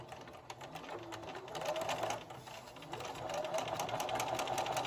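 A sewing machine runs steadily while stitching a bandana drawstring bag, its rapid motor whir and needle rhythm continuous and close throughout, rising slightly toward the end.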